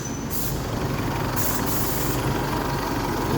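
Cold-started Isuzu D-Max 3.0 4JJ1 turbo-intercooled diesel running slightly fast, a steady broadband engine drone with low rumble held close and loud for the whole stretch, no talk.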